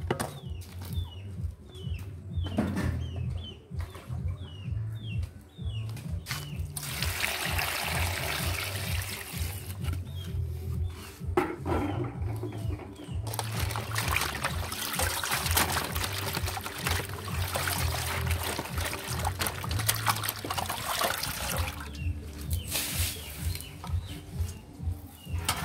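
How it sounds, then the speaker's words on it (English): Callaloo greens rinsed under running water, a steady trickle and splash that goes on throughout with handling noises in between and faint birdsong in the background. "wash our greens properly now"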